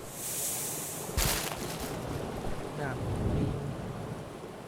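A waterfall pours in the video game Abiotic Factor, a broad, steady rushing wash of water noise, with a brief sharp burst near the start and faint game sounds underneath.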